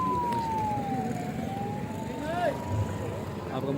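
An ambulance siren wails steadily at a village road blockade set up by protesting residents, its tone gliding slowly up and down over a constant background rumble of traffic and crowd voices.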